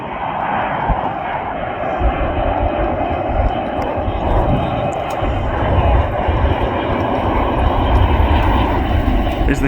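An Airbus A340 landing at Manchester Airport gives a loud, sustained jet engine roar that rises slightly toward the end and stays constant without a break.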